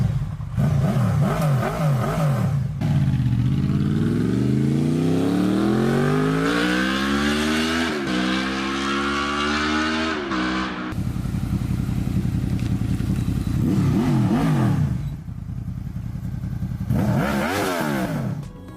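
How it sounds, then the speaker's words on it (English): A Honda VFR V4 motorcycle engine revs loud and close, with short throttle blips, then one long climb in pitch that drops back, followed by more sharp rev bursts near the end. "my VFR is the best sounding bike that is out there on the market today"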